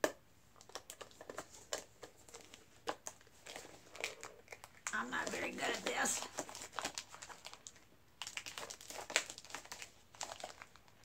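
Plastic packaging from a Dollar Tree haul being opened by hand: faint, close crinkling and crackling in irregular bursts, with a longer stretch of tearing and rustling, under quiet talk.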